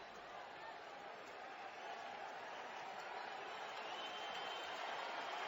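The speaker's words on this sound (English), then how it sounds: "So as the crowd builds back to the crescendo" A baseball stadium crowd roars during Game 5 of the 2015 NLDS playoff, with Jacob deGrom pitching. The massed cheering is distant and faint, a continuous wash that slowly swells louder.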